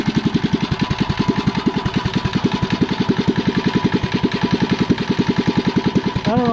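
A REO Trikeabout engine running close by in a steady, rapid rhythmic putter, loud and even, with a brief rising whine near the end.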